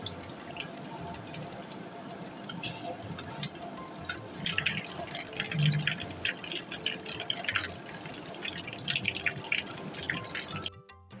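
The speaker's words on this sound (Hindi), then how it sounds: "अब समोसों को फ्राई करते हैं।" Beef qeema samosas deep-fry in oil over a low flame, a continuous soft bubbling and crackling sizzle with scattered pops, fairly close and alone.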